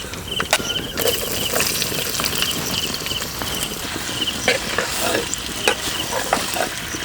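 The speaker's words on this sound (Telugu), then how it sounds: "నూనె వేడెక్కాక ముందుగా గరం మసాలా దినుసులు, వెంటనే ఉల్లిపాయలు కూడా వేసుకొని బాగా కలుపుకుందామండి" Onions and whole garam masala spices fry in hot oil for a biryani. A constant crackling sizzle is broken by repeated sharp clacks and scrapes as a spoon stirs the pan close by.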